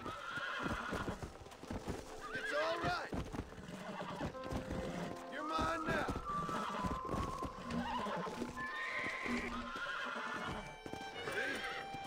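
A horse whinnies over steady clip-clopping hooves in the video game Red Dead Redemption, with busy game sound effects layered around it at a moderate level.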